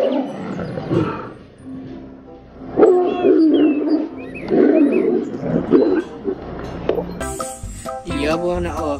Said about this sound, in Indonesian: Ada satu ekor harimau nih teman-teman